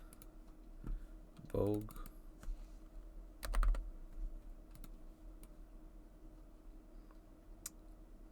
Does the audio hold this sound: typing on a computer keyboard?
yes